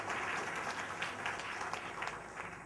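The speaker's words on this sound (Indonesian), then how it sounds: "Amin, tepuk tangan bagi Allah kita." A church congregation claps together in worship, a steady dense wash of applause lasting a few seconds without pause.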